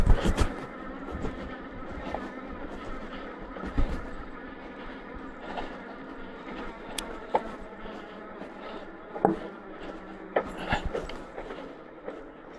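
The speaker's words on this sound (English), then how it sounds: "You can hear that front wheel trying to get up here" A Duotts S26 electric scooter's front wheel strains up a steep off-road hill, its motor whining and pitching up and down in bursts amid scraping, crunching bumps from the rough ground.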